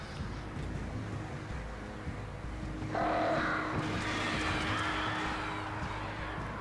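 Crows cawing in the video game Alan Wake, faint calls over a low steady game ambience with a brighter wash of noise swelling partway through.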